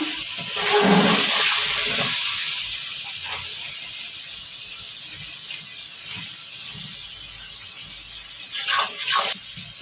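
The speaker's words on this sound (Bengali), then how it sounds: "মশলাটা কষানোর জন্য একটু পানি দিয়ে দিলাম" Water hits frying spice paste in a hot pan over a wood-fired stove with a loud, sharp sizzling hiss that swells, then settles into a quieter steady frying crackle, with a brief flare near the end.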